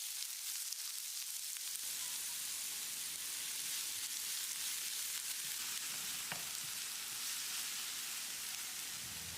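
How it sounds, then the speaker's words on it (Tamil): Chopped onions and green chilli sauté in a tablespoon of oil in a pan for egg masala dosa, giving a steady, close sizzle and frying hiss that runs throughout with no talk. "வெங்காயத்தை லேசாக செவந்து வர்ற அளவுக்கு வதக்கினாலே போதும்"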